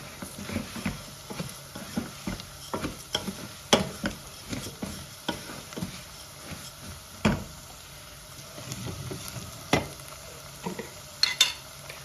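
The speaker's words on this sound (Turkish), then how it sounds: "Salçam bayağı bir çok kuruduğu için biraz zor kavruluyor canlar." Dried tomato paste and bulgur being stirred in a pan, with soft sizzling under scattered scraping and tapping of a spoon close by and no talking.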